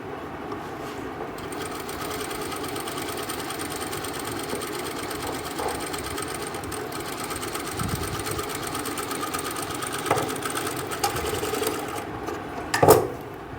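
A sewing machine runs steadily for the whole stretch, stitching a suit with a continuous close mechanical whir and a few louder knocks near the end.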